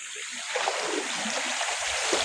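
Strong river current rushing along, a steady watery wash with faint splashes, moderately loud and continuous, with no talk over it.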